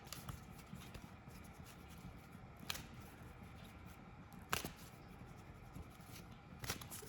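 A deck of angel oracle cards gets a brief quick shuffle, with soft papery riffles and a few sharper snaps standing out over faint room noise, close and quiet with no talking.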